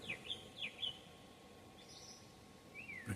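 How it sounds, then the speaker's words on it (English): Small birds chirp outdoors overhead in a few quick, high tweets, first clustered at the start, then a couple of lone calls, faint against a quiet background. "You're hearing the birds up here."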